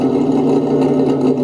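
Simulated RC car engine from a Sense ESS Dual sound kit on a Vaterra V100 during a dyno run, a steady droning idle-like hum held loud and even for the whole moment, no voices.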